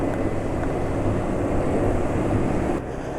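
A petrol engine run with sesame oil as a fuel and oil additive drones steadily and loudly, a rough, unbroken mechanical hum with no voices, dropping slightly near the end.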